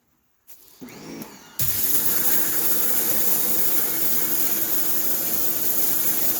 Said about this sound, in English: I'll give it a light scrub and a generous power wash to get any remaining degreaser off before it dries.